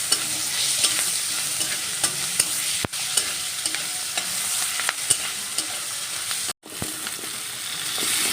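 Panch phoron, dry chilli, bay leaf, garlic and onion frying in hot oil, a loud close steady sizzle broken by spoon scrapes and clicks, with a brief gap near the end.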